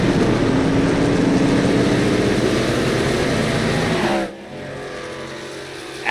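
Race trucks roar off pit road at Talladega in a dense, loud, sustained engine drone that briefly dips near the end before surging again, with no talking.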